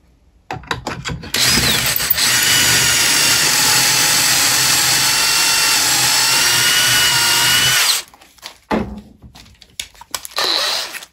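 Power drill fitted with a large bit bores into wood on an eccentric screw jig, a loud sustained whine running steadily for about six seconds, framed by brief clicks and short bursts of the drill starting and stopping.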